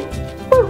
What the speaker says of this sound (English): she's a Tibetan Terrier